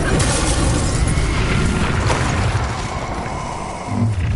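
Bombarda blast spell in the Hogwarts Legacy game, a loud, dense explosive roar with crackling debris that stays heavy before easing slightly and flaring again near the end.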